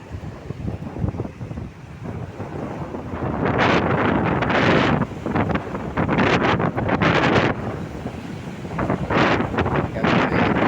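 Strong wind at sea off a fishing coast, blasting loudly and continuously into the microphone in roaring gusts, with hints of waves beneath.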